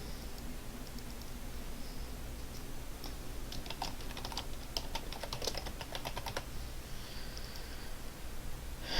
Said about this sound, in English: I'm going to type in order line quantity